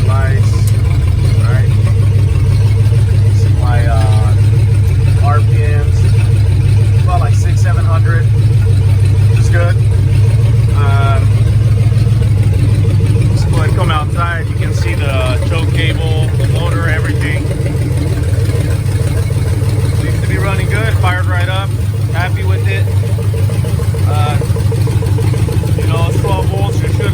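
A flathead engine runs from a cold start after a starter replacement, a loud, steady low idling rumble that continues throughout while someone talks over it.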